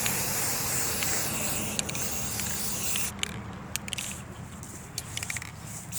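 A spray can hisses paint onto a small Dollar Tree pumpkin, a continuous close spray for about three seconds, then short broken bursts.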